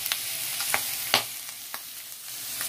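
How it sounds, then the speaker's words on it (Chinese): Dried seafood and Yunnan ham stir-fried in a wok, a soft continuous sizzle broken by several sharp scraping clicks of the spatula against the pan. "跟住啲海味啊，雲腿啊。 阿乾啊，我嚟提味啊，放埋落去炒一炒香佢。"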